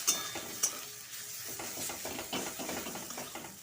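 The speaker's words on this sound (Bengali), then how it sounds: "এবার শাক বাটাটাকে দিয়ে আরও খানিকক্ষণ কষিয়ে নেব মানে যতক্ষণ না জলটা শুকুচ্ছে ততক্ষণ এরমভাবে নাড়াচাড়া করে নেব" Mashed chickpea greens paste with onion is stirred and fried in a pan until the water dries off. A spoon scrapes repeatedly and briskly against the pan over a soft continuous sizzle, with no voices.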